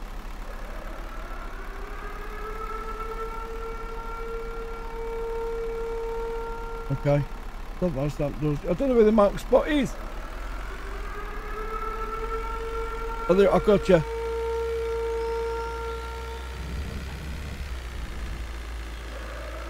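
A bus engine in the Bus World disaster simulator idles with a steady low hum and faint tonal whine throughout, while someone talks intermittently over it.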